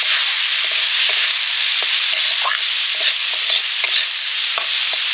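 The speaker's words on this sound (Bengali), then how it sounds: "ডাল চচ্চড়ি জিরে ফোড়ন দিয়ে ডালটা দিয়ে দিলাম" Lentils fry in a pan with a cumin tempering, a steady loud sizzle with scattered crackles and stirring scrapes throughout, no voices.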